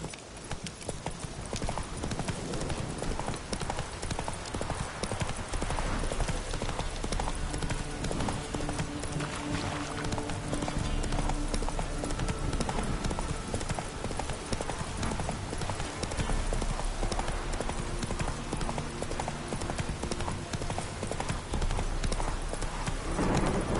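Roach, the horse in The Witcher 3, gallops steadily with rapid, continuous hoofbeats held close and loud for the whole stretch, set against a dense game soundtrack with occasional faint voices.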